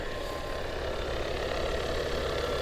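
A car engine idles at a salvage auction yard, a steady, even mid-pitched hum held at constant loudness throughout, with no one talking.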